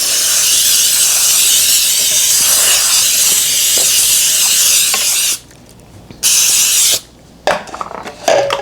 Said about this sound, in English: I'm going to spray it again a little bit